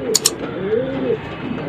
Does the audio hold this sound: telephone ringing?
no